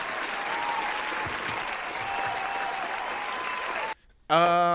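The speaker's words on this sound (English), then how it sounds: "let me give you a round of applause on that" Steady, dense applause from an audience rolls on evenly for about four seconds, then cuts off abruptly, followed by a brief tonal sound.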